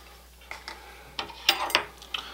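A spoon scrapes and taps in a shallow bowl as half a cup of sugar and a teaspoon of cinnamon are stirred together. The clinks come in a few quiet, uneven bursts.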